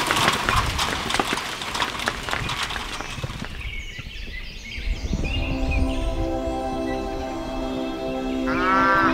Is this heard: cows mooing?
yes